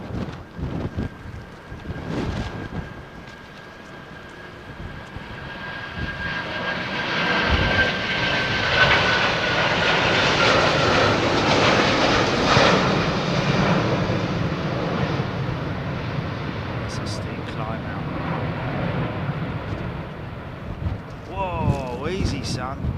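A Middle East Airlines airliner passes at Heathrow Airport with a broad jet roar that swells to a peak midway and slowly fades, with wind buffeting on the microphone and some nearby talk.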